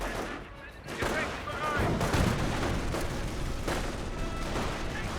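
Mortar fire in Company of Heroes, a World War II strategy game, as dull booms and bursts of battle gunfire rumbling through a crowded mix at moderate distance, under a commentator's continuous talking.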